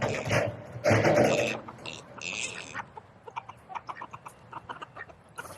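A Silkie chicken clucks close by in short bursts, mixed with scratchy rustling and soft pecking on a homestead, the sounds scattered and uneven with no talk.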